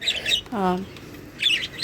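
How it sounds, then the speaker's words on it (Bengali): A lovebird suffering from an eye infection gives bright, high chirps in two bursts, close to the microphone. A short low voiced sound sits between the bursts. "একটা লাভ বার্ড দেখাচ্ছি এই লাভ বার্ডটা একটু অসুস্থ"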